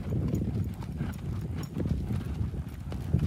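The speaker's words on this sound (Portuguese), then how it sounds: "Que cavalo, gente." Hooves of a Pampa horse clip-clopping on the ground, a steady run of close, loud hoofbeats continuing without pause.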